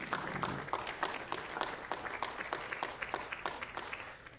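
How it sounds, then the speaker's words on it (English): Audience applause at a board of education meeting, a steady patter of many hands clapping throughout, moderately distant and filling the room without voices. "Yeah, we can applaud that."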